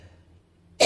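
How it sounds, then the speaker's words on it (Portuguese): A single sharp, loud cough bursts out abruptly at the very end, following near-silence with faint low background noise. "Minha tosse tinha melhorado."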